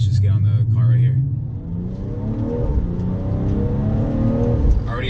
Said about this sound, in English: this car sounds amazing out of factory with the M Performance exhaust on it